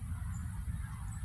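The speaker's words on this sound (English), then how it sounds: "These look like young geese. And some of these birds making that noise" Young geese honking in a large flock on an empty golf course, a continuous chorus of close, loud calls overlapping one another.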